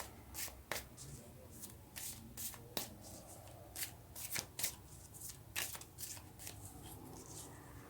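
Tarot cards being shuffled for a Capricorn reading, a close series of soft flicks and sharper snaps in uneven bursts, fairly quiet and free of speech.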